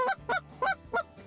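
Goose call blown in a quick series of four short, sharp clucks, evenly spaced and honking, close and clear with no talking over them.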